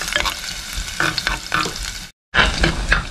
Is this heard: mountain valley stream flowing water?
no